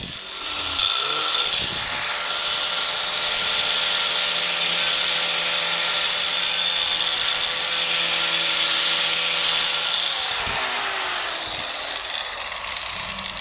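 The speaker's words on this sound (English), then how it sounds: "So I'm just shaping it with ordinary grinder" An ordinary handheld grinder shapes a small piece of very soft raft wood into a plaster tool handle. It spins up with a steady, high mechanical whine, holds it for about ten seconds, then winds down.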